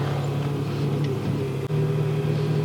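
A Can-Am side-by-side's engine idles steadily up close, a continuous low droning hum with no revving, heard alone without talk.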